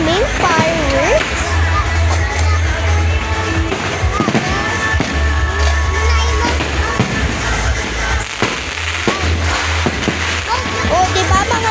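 Dense, continuous fireworks and firecrackers popping and crackling all around, loud bursts layered over one another without pause, with deep rumbling underneath.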